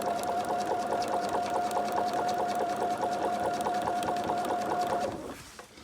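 Sewing machine stitching pants fabric, running in a steady fast mechanical whir with a regular needle tick for about five seconds, then stopping, close up with no talk.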